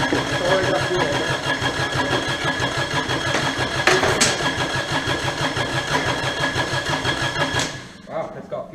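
A Kubota D722 diesel engine cranks and tries to start after a pump installation, with steady rhythmic chugging held close and loud for about eight seconds before it stops abruptly.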